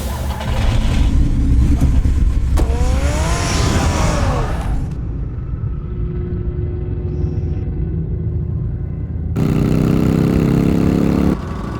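Car engine revving and idling in the Batman Telltale video game, a steady mid-low rumble that swells loudly at the start, quietens through the middle, then surges again near the end, with no talk over it.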